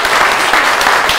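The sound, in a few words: audience applause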